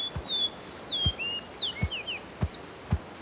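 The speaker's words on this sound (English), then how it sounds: "The sound effect of the drumming comes from the movement of the air propelled by the wings." A grouse drums its wings while perched on a log, giving a series of about five deep, muffled thumps that come slightly faster each time, under scattered high bird chirps and whistles.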